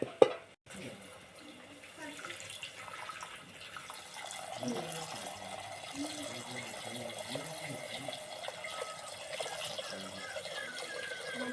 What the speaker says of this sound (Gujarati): હવે આપણે આમાં થોડીક છાશ નાખવાની થાય છે